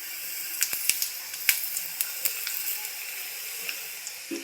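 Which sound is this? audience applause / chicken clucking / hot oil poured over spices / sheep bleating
hot oil poured over spices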